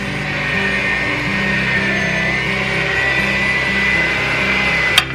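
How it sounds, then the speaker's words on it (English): An electric mixer whirs through banana cake batter with eggs, a steady motor hum with slight shifts in pitch, running close and continuous before a brief clack near the end. "Let me get this blended nice and well."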